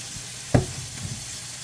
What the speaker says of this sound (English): I gotta stir my peppers and onions